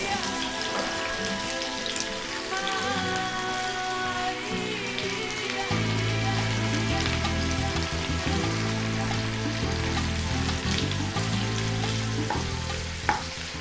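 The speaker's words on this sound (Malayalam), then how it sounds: "ഇച്ചിരി നെയ്യിൽ വറുത്തേക്കാമെന്ന് വിചാരിച്ചു" Thinly sliced onions, about 500 grams, frying in ghee for a mutton biryani, giving a steady close sizzle and crackle throughout with occasional stirring; music plays underneath.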